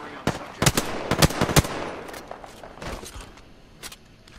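Gunfire in a video game shootout: rapid bursts of close, loud shots in quick clusters, then sparser single shots fading toward the end.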